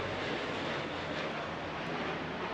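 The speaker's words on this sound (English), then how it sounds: "two more transport aircraft coming over now. One big, one small." Two large and small transport aircraft, including a BAE 146, pass overhead at an RAF centenary flypast over London, giving a steady, broad engine roar that fills the whole stretch without letup.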